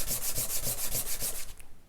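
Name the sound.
sanding wood pieces on flat surface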